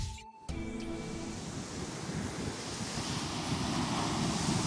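Ocean surf on a beach, a continuous broad wash of waves with wind noise buffeting the microphone, steady and moderately loud after a brief opening thump.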